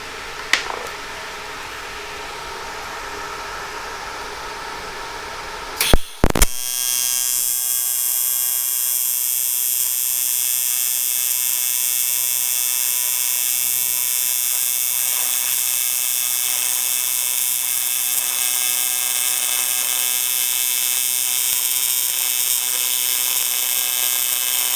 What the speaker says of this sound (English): that's not pretty, but that's the nature of trying to weld this type of material